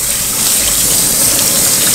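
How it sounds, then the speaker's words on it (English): Cold tap water runs steadily over noodles being rinsed, a loud, continuous close-up gush with no pauses and no talking. "And then you wanna rinse them really well with cold water."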